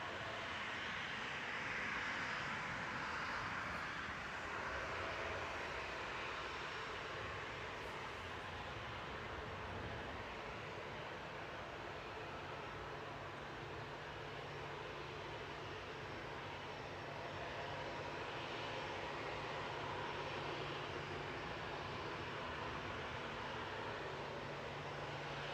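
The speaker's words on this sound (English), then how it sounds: "Quite noisy, that plane, isn't it?" A Ryanair Boeing 737-800 jet roars in the background at an airport, a steady, broad engine rumble that holds at a fairly even level throughout with no talk.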